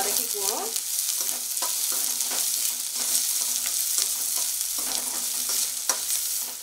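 Capsicum, onion and garlic sauté in a pan for a Gobi Manchurian, giving a loud, steady sizzle close by, broken by repeated scraping stirs of a spatula.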